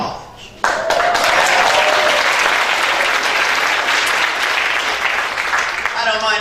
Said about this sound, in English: I don't mind milking applause for that.